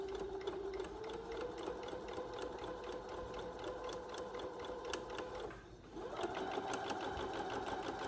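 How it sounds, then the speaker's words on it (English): Domestic sewing machine running a forward then reverse stitch down the top edge of a fabric lunch bag, a steady close mechanical whir with a brief pause and motor change as it switches direction. "we actually need to do a forward and then reverse stitch on this, just to make sure that this piece at the top is super secure"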